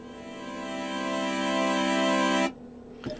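A Proteus 2000 synthesizer holds a bright, harmonically rich tone that swells gradually from quiet to full volume, then cuts off abruptly. A faint click follows in the near silence.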